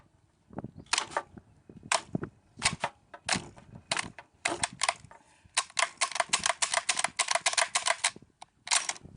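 A Remington Model 700 bolt-action rifle being unloaded, with a rapid run of crisp, close metallic clicks and clacks from the action, some in quick bursts and others spaced apart, no talk.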